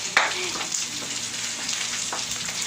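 Coconut milk poured into a hot pan, giving a steady, moderately loud sizzle and frying crackle with a brief sharp spatter near the start, heard alone and close by.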